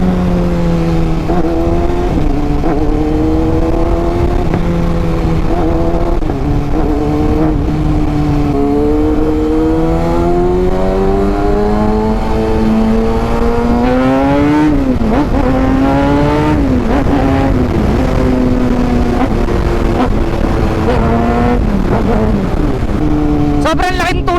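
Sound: Kawasaki Ninja ZX-6R motorcycle engine revving while riding, shifting gears

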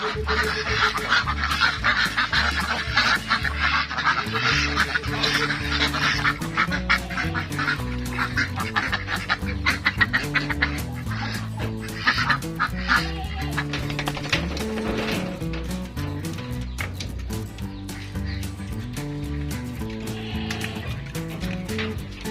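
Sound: Pekin ducks calling

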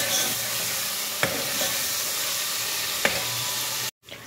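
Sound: frying garlic in a pan

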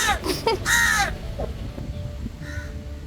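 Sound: crows cawing

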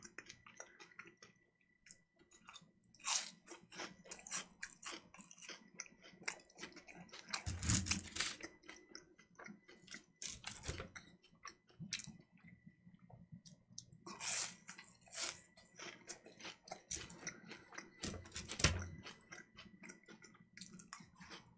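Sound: chewing while eating pork cutlet and cold soba

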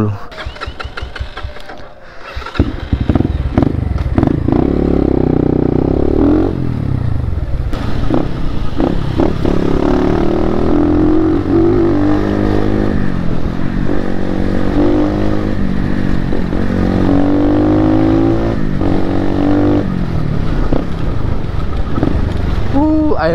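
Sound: motorcycle riding

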